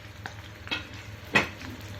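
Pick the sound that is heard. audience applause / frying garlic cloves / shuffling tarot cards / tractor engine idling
frying garlic cloves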